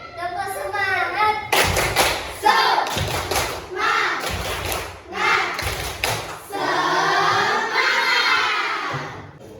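Indonesian fourth-grade schoolchildren perform the tepuk semangat clapping chant in a classroom, loud rhythmic bursts of claps and thumps alternating with chanted and shouted voices.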